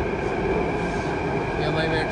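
Delhi Metro train running, a steady loud rumble and hum of the carriage in motion throughout, with faint chatter underneath.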